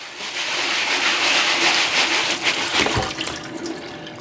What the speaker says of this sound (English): Rinse it some more.